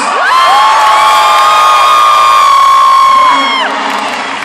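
At a concert at the Zénith de Lille, a dense crowd cheers and shouts loudly and continuously, with shrill high voices carrying over the roar before it tapers off near the end.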